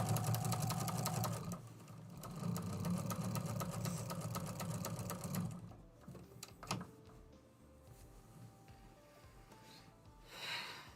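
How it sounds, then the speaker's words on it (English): Sewing machine quilting a quilt, a steady close mechanical whir with a rapid needle chatter that runs for several seconds, then stops, leaving quieter handling noises. "So I'm going to finish quilting it"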